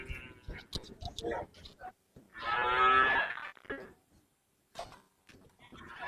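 A Friesian bull moos once, loud and close, at a cattle market, the long low call set between bursts of nearby talk and handling noises.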